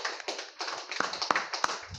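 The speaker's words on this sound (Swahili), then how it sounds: "Kupigia pasta makofi memu." Church congregation applauding the pastor, scattered claps and taps with a few sharp louder hand strikes over a busy murmur, close and uneven in rhythm.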